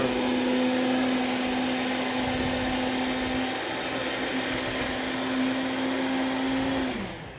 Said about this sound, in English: Let's just put it in the blender.